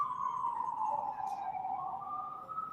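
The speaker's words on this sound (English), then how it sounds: "Sometimes you can pick up sirens" A faint, distant siren wails in a slow falling and rising tone, heard alone against a quiet room background.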